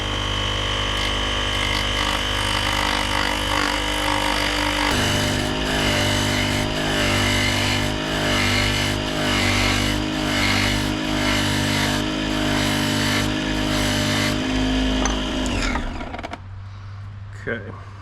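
A wood lathe spins a bass lure blank while tools work against it, giving a loud, steady whirring drone with a tonal hum and rough cutting noise that shifts pitch partway through and winds down at the end.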